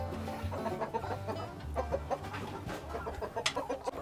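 Free-range chickens on a farm with a bamboo coop cluck in short, repeated bursts close by, several birds overlapping in a busy, uneven chorus with no talking.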